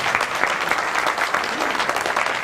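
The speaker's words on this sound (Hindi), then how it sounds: "और हम अगर उनके वंशज हैं तो एक बार उनके सम्मान में ताली बजाइए।" An audience at a Diwali-gathering poetry recital at Ramjas College, Delhi, claps in honour of freedom fighters, a dense, steady burst of applause lasting a couple of seconds with no talk over it.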